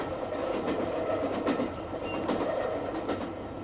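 A crowded passenger train moving along the track: steady, rumbling rail noise with a rhythmic clickety-clack of wheels, heard from inside the car at moderate loudness, with no talking.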